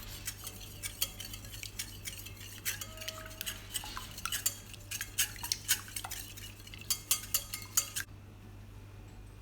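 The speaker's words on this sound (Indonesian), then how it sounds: "Cukup diaduk-aduk gini." A spoon stirs brownie batter of powdered sugar and eggs by hand in a bowl, giving repeated scraping clinks and knocks against the bowl in an irregular rhythm, close up, with no talking.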